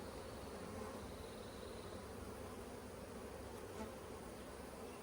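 A steady, dense buzz of many honey bees around a hive hums continuously throughout, soft and even with no pauses or talking.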